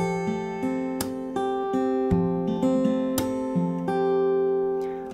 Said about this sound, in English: I'll play 2nd chorus with the kicks and with the slaps,